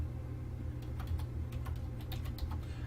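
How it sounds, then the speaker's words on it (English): An email address is typed on a computer keyboard as a quick irregular run of soft key clicks over a low steady background hum, with no talk. "And then you would type in your second email."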